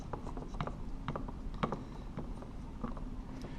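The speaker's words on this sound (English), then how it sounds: "So now I'm going to put the wire nut on them." Plastic wire nut twisted by hand onto the stripped ends of electrical wires at a light switch, giving a run of small dry clicks and ratcheting scrapes, close and faint, with no talk.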